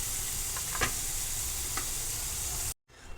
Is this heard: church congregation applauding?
no